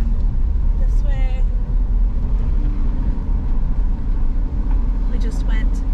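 Steady road rumble from inside a car driving along a road in the Coral Bay area of St. John, US Virgin Islands, a continuous low drone with a few faint chirps and a voice speaking over it.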